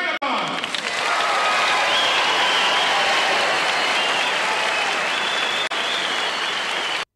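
An audience breaks into loud, full applause with some cheering after a barbershop quartet is introduced on stage, the clapping swelling quickly and holding steady throughout.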